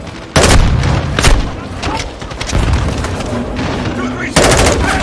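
Gunfire and grenade blasts erupt in Call of Duty Modern Warfare 2 combat, loud bursts of automatic fire punctuated by heavy booms, with shouting voices mixed in.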